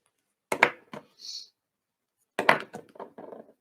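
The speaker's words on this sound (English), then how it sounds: "If you hear the banging, it's me putting the pens back down because I picked the wrong one" Alcohol marker pens set down on a table, giving a few sharp close clatters and knocks in two short bursts separated by a pause, with a brief soft rattle between them.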